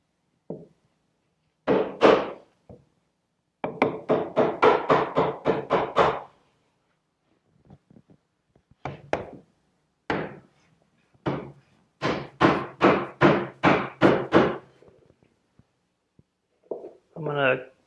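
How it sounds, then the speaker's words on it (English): Wooden dowels are knocked into chair joints during a glue-up, heard as crisp bursts of rapid mallet taps in quick runs of five or six, separated by pauses, close and clear. "I'm going to start by getting the dowels in."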